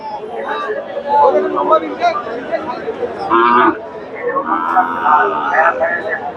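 Cattle low at a busy outdoor cattle market in Bogura, with a couple of drawn-out moos rising over steady nearby talk and crowd chatter.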